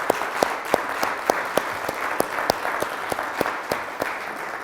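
A church congregation claps together in a steady, even rhythm of sharp beats, roughly three per second, with a soft crowd wash between claps and no talking.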